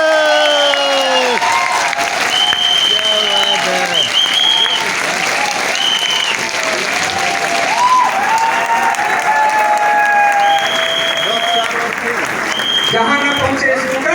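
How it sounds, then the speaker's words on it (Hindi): Loud, sustained applause from a large audience at a business event welcomes the president, with cheering voices and a loudspeaker announcer talking over the clapping throughout. "आपकी जोरदार तालियों बीच में हम बुलाने वाले हैं हमारे क्राउन प्रेसिडेंट मिस्टर जयप्रकाश जी को"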